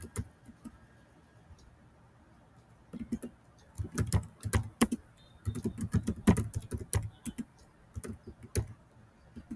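Keystrokes patter on a computer keyboard as a student's first name is entered into school management software, a close run of quick clicks in short uneven bursts with pauses, fairly quiet and without talk.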